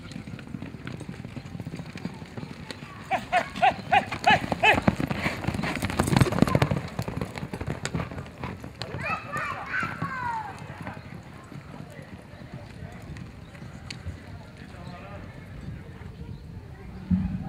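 Horse hooves pound in a steady running rhythm at a horse competition, beneath a Portuguese-speaking commentator's voice and crowd noise, loudest midway through before easing off.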